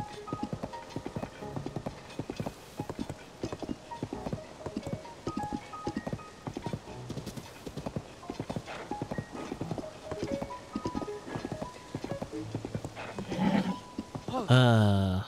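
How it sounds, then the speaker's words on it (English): Horse hooves clip-clop in a quick, steady rhythm throughout a Zelda: Tears of the Kingdom gameplay scene, with in-game music and other sounds layered underneath. "So this is Vince's quest to tame Ganondorf's horse."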